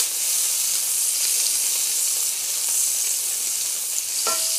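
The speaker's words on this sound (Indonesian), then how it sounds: "kupang nak digoreng, mak masukkan juga, mak terus masukkan cili dengan bawang putih telah mak titik tadi ya" Mussels with chili and garlic sizzle and hiss steadily in a hot frying pan for nasi goreng, a loud continuous crackling broth of oil with a few faint utensil clinks near the end, no talking.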